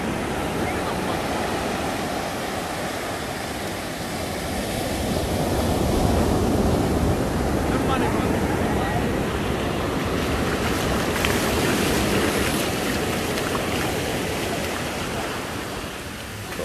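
Ocean surf washes onto a beach at Ixtapa, a continuous loud roar of breaking waves that swells and fades, mixed with heavy wind buffeting the microphone.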